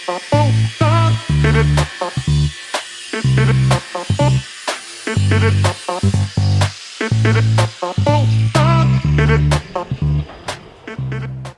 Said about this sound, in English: Now I'm cutting on this bench because I couldn't fit it in my saw.